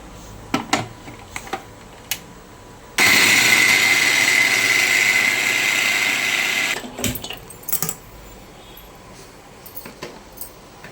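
A kitchen mixer grinder blending garlic, cumin and green chilli: a loud, steady whir runs for about four seconds, then stops, framed by clicks and small handling knocks before and after.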